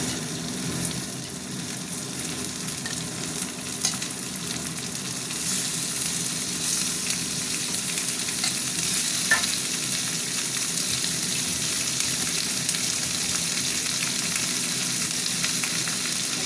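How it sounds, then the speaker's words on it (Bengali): Chicken pieces frying with softened onions in a pan for chicken curry, a continuous close sizzle with light stirring scrapes, steady and moderately loud with no talking. "মাংসটা দিয়ে একটু ভাজা ভাজা করবো"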